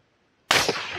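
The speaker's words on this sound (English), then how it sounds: "I'm shooting off a bipod and some bags here, so I'm very steady doing this." A single sharp report from a suppressed .204 rifle fired off a bipod and bags bursts out of silence, close and loud, then trails off in a short decaying tail.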